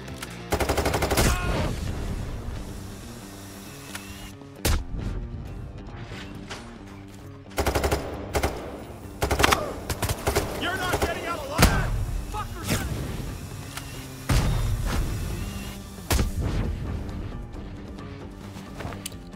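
Heavy, booming shots from a cannon-like gun in the video game Payday 3, fired in separate loud blasts every second or two over a constant background of game music and ambience.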